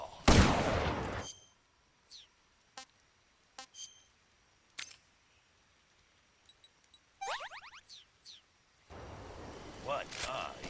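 Gunfire in Metal Gear Solid Delta: Snake Eater: a loud burst opens, followed by scattered sharp single shots and metallic clicks spread across quiet stretches, then another dense burst near the end.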